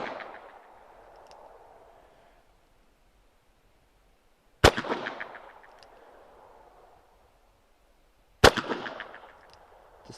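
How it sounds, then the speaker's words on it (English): A Ruger Security Six .357 Magnum revolver fired single action at a range, three sharp, loud shots spaced several seconds apart, each with a ringing decay and no talk between them. "so these next rounds are going to fire single action"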